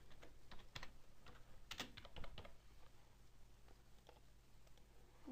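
Quiet, steady typing on a computer keyboard, with irregular bursts of soft clicking keystrokes over a faint background hum and no talking.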